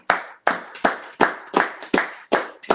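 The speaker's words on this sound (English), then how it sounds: "Clap it up for me." A congregation at a Sabbath service in Milwaukee claps in a brisk, steady rhythm: about eight sharp, close hand claps, evenly spaced and loud, with no voices over them.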